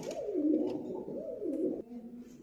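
Domestic pigeons kept for sale, including blue velvet and pied birds, coo in low, rolling, repeated calls that rise and fall, fairly close and alone.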